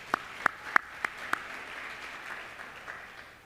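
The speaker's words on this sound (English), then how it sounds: "let's give him a round of applause" A small crowd at a school district ceremony saluting educators gives a brief burst of applause: five or so sharp, separate claps in the first second and a half, then a soft, diffuse patter that fades.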